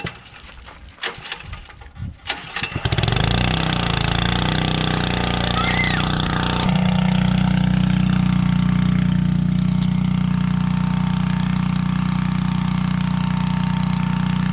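A small engine, started with the choke and then run with it off, roars into a loud, steady mid-pitched drone after a few sputtering pulls, running continuously with no talk.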